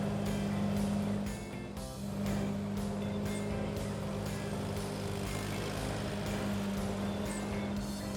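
A cartoon ride-on lawn mower cutting shapes into grass: a loud, steady motor drone with a constant low hum, continuous throughout with slight dips, close and alone.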